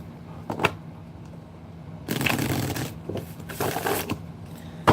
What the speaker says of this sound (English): Make sure the cards are nice and shuffled before we get started.